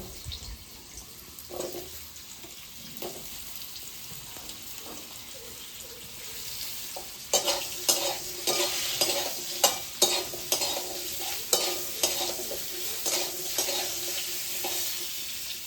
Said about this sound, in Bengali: আমার আলুগুলো কিন্তু অনেকটাই ভাজা ভাজা হয়ে গেছে